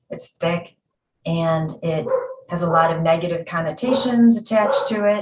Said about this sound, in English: Sorry if you can hear the dogs barking upstairs.